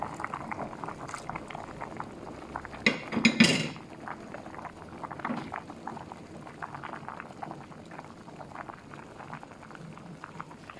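Water bubbles at a steady rolling boil in a pot for a Thai bamboo-shoot curry, with a brief clink of a utensil against metal partway through.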